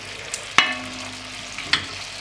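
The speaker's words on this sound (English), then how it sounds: "in the pan there is a pound of beef, and I just added slices of lardon, like 200 grams." Beef and lardon slices browning in a pan for boeuf bourguignon, with a soft steady sizzle broken by two sharp metallic clinks of a utensil against the pan, close and fairly quiet.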